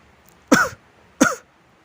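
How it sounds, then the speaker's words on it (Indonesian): Two short, sharp coughs, about three quarters of a second apart, close and clear against a quiet background. "terbatuk-batuk karena merasa pedas menyengat sampai ke dalam hidungnya"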